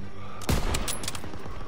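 Gunfire in the World War II shooter game Call of Duty WWII: one sharp, loud close shot followed by a quick burst of several cracks fading into battlefield noise.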